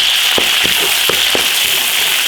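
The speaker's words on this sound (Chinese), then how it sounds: "回肉下锅" Pieces of duck meat dropped back into hot oil in an iron wok, a loud steady sizzle with a few sharp crackling pops spaced through it.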